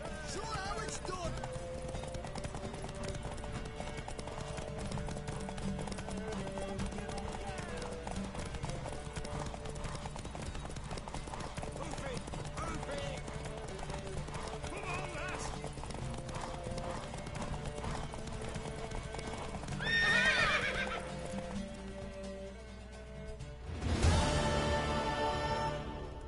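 Horse hooves clip-clop at a steady galloping rhythm during a race in The Witcher video game, with music and game voices talking over it, a neigh rising near the end.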